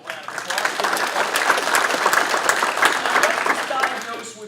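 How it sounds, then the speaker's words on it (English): Applause from Oakland Raiders football players in a room, a short burst of dense, close clapping that holds steady for a few seconds and then fades. "so give him a little round of applause."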